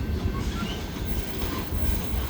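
A long Escanaba and Lake Superior Railroad freight train with three locomotives rolls by on a grade, with a continuous deep rumble, rattling cars and a faint wheel squeal, loud and close with no voices.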